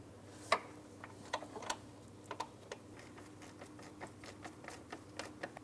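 A ratchet tightens the 10mm mounting bolt on the A/C condenser fan assembly of a 2004-2008 Pontiac Grand Prix 3.8L V6, making faint rapid clicking in irregular bursts over quiet background hum.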